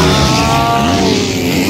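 A racing motorcycle engine at a novice race in Maramag, Bukidnon, howling loudly and steadily at high revs close by, with no talk over it.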